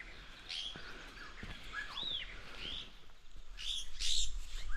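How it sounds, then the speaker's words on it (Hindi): Several birds, taken to be parrots, call from trees above green maize fields near a cottage in Mukteshwar, giving sharp, rising chirps and squawks in scattered bursts, with a louder cluster near the end, over a steady outdoor hiss. "ये तोते, कितने सारे तोते हैं।"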